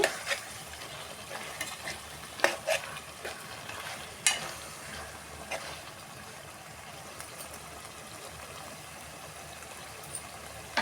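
A spoon stirs fish curry (chepala pulusu) in a pot over a steady bubbling sizzle, with several sharp scraping clinks against the metal standing out above the continuous simmer, close by and fairly loud.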